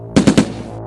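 Machine gun fire in a reconstruction of an attack on a police headquarters: three loud, close bursts in quick succession, with a dying tail after them.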